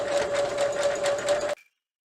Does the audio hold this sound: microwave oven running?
no